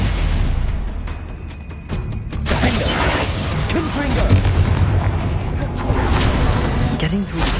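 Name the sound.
Bombarda and Confringo spell explosions in the video game Hogwarts Legacy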